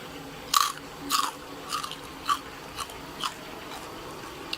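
Several sharp crunchy cracks spaced about half a second apart, close and crisp, as crispy fried pork belly is snapped apart; no talking.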